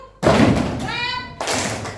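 Children in a classroom rhythm game clap together in two loud, broad bursts, with a young voice chanting the beat between them, close and lively.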